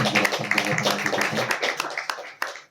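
Audience at a book launch and literary discussion gives a short burst of applause. Dense clapping fades out over a few seconds, with a few sharp claps near the end.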